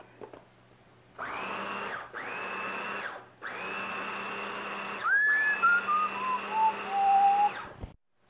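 A food processor runs in several short whirring pulses, grinding already-cooked taco meat; the motor starts and stops four times and its pitch drops steadily in the last long burst, close and loud with no talking.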